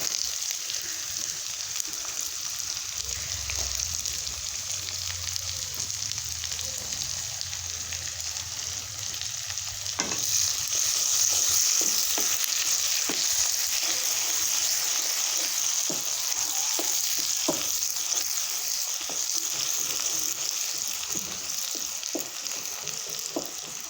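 Curry leaves, coriander and onion fry in hot oil with a steady, close sizzle that sharpens and brightens midway, broken by occasional stirring clicks, with no voices.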